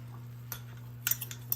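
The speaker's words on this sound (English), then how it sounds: "I'm gonna use a fork to stir that together to get the lumps out of it" A metal fork stirs cornstarch into water, giving a few faint, sparse clinks and scrapes against the container at irregular moments, with no talking over them.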